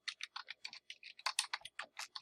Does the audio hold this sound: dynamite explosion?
no